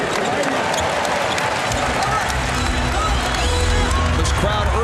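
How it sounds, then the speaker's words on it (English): Arena crowd roaring and cheering for the Los Angeles Lakers during Game 2 of the NBA Finals against the New Jersey Nets, a dense sustained wall of noise with sneaker squeaks and ball bounces mixed in. "Crowd urging the Lakers on"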